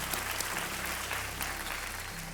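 Steady applause from a television quiz show studio audience, an even, continuous wash of clapping at moderate level with no voices over it.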